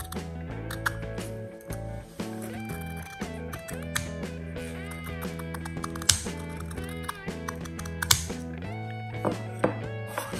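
Scissors snipping away excess fabric from a small canvas brooch during a craft project, a run of close, crisp clicking cuts at an uneven pace over a tonal background.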